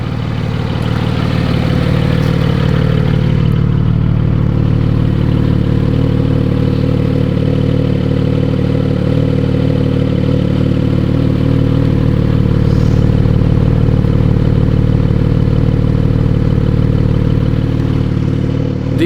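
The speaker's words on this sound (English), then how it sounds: "This is the 718 Spyder 4-liter, exactly the same engine like the Porsche GT4. I'm going to do a little bit of launch control here" A Porsche 718 Spyder's 4-liter flat-six idles loudly and steadily with a deep, even rumble and light mechanical clatter, sustained close up without any launch or revving heard.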